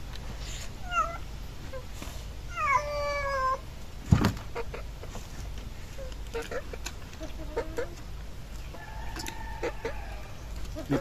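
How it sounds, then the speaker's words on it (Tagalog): A cat meows a few times over a steady outdoor background, with chickens clucking softly nearby. "May pusa tayo dito."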